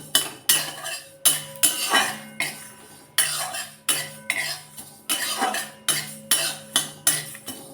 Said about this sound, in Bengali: সর্ষেটা বেশি ভাজবো না যাতে গুড়ানো যায় সেই মতো একটুখানি সামান্য একটু নাড়িয়ে নেবো